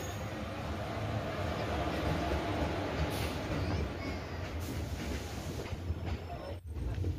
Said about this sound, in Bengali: তো কিছুক্ষণের মধ্যে ট্রেন চলে এসছে।